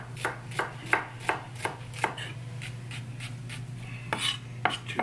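A kitchen knife chops vegetables on a cutting board in a steady, crisp rhythm of about a dozen close, distinct strokes with a brief pause before a final quicker flurry, no talk over it.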